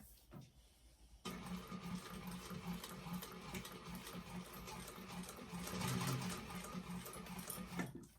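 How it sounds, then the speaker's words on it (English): A sewing machine stitches a half-inch seam on a vinyl tote, a rapid even needle rhythm that starts after a quiet second and runs continuously to the end, close and fairly soft. "we're going to sew that with a 1/2 inch seam allowance"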